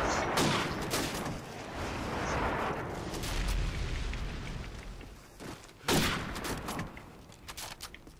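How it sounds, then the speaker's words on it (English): Friendly airstrike explosions in Call of Duty 4 Modern Warfare, a 1v1 match, with several heavy rumbling blasts and bursts of gunfire. The booms roll in close and loud, and one sharp hit lands near the end. "Friendly airstrike on the way!"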